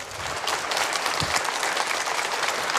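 Audience applause at an outdoor political talk in Taichung, a dense continuous clapping from a large crowd, loud and steady throughout with no gaps.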